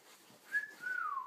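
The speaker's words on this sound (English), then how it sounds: "Is Daddy whistling?" A person whistles a short rising-and-falling tune of two sustained notes, fairly faint and alone in a quiet room with a parrot.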